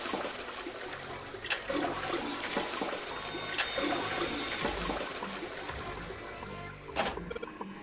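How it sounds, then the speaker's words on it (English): A toilet flush in the 999 video game: a loud, continuous rush of swirling water runs for several seconds, with gurgles and a sharper splash near the end. "I heard a loud flushing noise."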